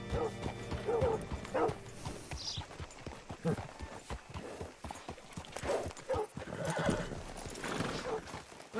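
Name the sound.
horse whinnying in video game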